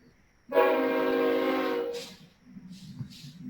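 A train horn blasts once, loud and sustained for over a second, followed by faint rumble and a few soft voices in a council meeting.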